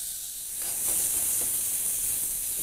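Onions dropped into a knob of butter in a pot, a bright steady sizzling hiss that jumps louder as they hit the hot fat and keeps crackling, close up.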